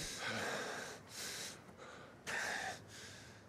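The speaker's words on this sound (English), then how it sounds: "Heavy breathing." Heavy breathing from a character in Final Fantasy 16, several slow, loud, breathy inhales and exhales in uneven bursts, close and alone without talk.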